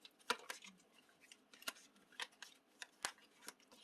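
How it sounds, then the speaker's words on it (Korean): Tarot cards shuffled by hand in a quiet room, a string of quick crisp riffling snaps and soft slides, about eight distinct bursts spaced irregularly over a few seconds, close and faint with no talking. "카드 섞을게요"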